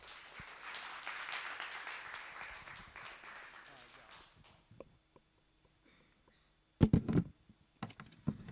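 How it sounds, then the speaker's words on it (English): A TEDx talk audience applauds a speaker named Kevin: a wash of clapping fades out over the first few seconds, followed by near silence and then a voice speaking. "Please give Kevin a round of applause"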